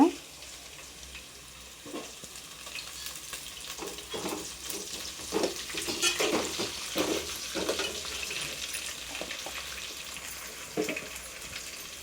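Thalippu vadagam seasoning frying in a pan, a steady crackling sizzle with scattered pops and stirring scrapes that grow busier midway, heard close with no talking.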